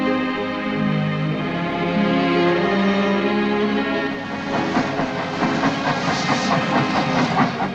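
A train runs along a railway in Cyprus, a steady rumbling roll with a hissing wash that turns into rhythmic clickety-clack of wheels over rail joints in the second half.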